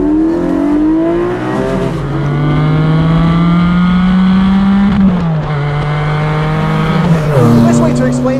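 A 2020 Porsche 718 Cayman GT4 or 718 Spyder revs hard through the gears, its loud engine note rising and falling with each shift, and tire noise is heard near the end.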